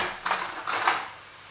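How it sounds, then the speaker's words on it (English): Two short scraping clinks of a metal knife digging peanut butter out of a jar for a stir-fry sauce, close and fairly quiet, with no talk. "So I use a knife, scoop it out"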